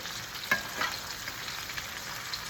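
Beef sausages frying with onions in a pan give a steady, fairly faint sizzle, with a couple of brief sharper crackles early on and no voices.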